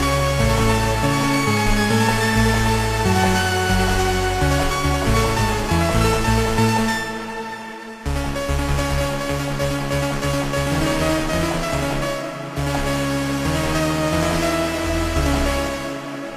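An analog-style synth patch played on a keyboard, rich and powerful with a loud, sustained tone and shifting chords and bass notes, alone with no voices and only light processing.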